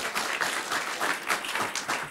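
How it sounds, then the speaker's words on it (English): An audience at a press conference about a regional hospital applauds a councilmember in a steady round of clapping, moderately loud and sustained through the whole clip, with no talk over it. "so let's give her a round of applause"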